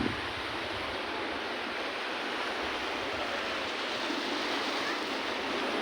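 Sea waves wash onto Playa Amarilla beach in Costa del Silencio, Tenerife, as a steady broadband hiss of surf that stays even and moderately faint throughout, with no distinct breaking crashes.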